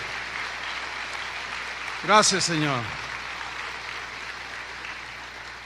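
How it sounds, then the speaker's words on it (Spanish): A church congregation applauds softly during a sermon, a low, steady wash of clapping beneath a brief spoken phrase from a man near the middle. "¿Cuántos le dan un aplauso?"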